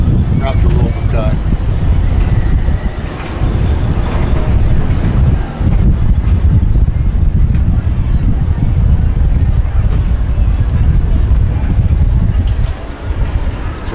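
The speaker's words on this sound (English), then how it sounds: "It's windy today." Steady, heavy wind buffets the microphone for the whole stretch, a loud low roar with brief dips, while a voice is faintly audible, at the Cedar Point amusement park.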